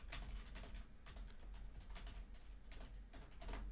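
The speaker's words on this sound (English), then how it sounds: "You can hear me typing." Quiet, close typing on a computer keyboard during a tournament broadcast, irregular bursts of crisp key clicks over a low hum.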